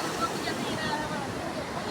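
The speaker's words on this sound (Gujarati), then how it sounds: "દરિયા ભરાય છે અત્યારે" Sea waves at high tide wash steadily along a Gujarat shoreline, a broad continuous surf roar with wind over the microphone and no clear breaks.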